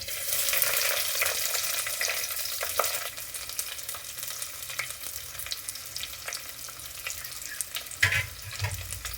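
Chopped onion, garlic and kanthari chili hit hot oil for an omakka theeyal curry, giving a steady, hissing sizzle with light stirring scrapes throughout.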